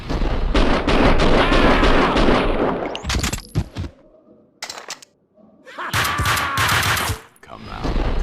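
Gunfire in the video game Max Payne 2: dense bursts of loud, rapid shots fill the first few seconds, then a brief lull with scattered single shots before another heavy volley, with shouting voices in between.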